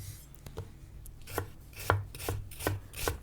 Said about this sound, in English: Some chopping of the onion.